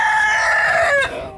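Chickens clucking and a rooster crowing close by in a coop of over 100 chickens, with layered bird calls overlapping in a brief burst.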